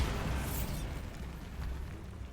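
A Bombarda explosion spell goes off in Hogwarts Legacy: a loud broadband burst at once, fading into a rumbling, hissy decay over a couple of seconds.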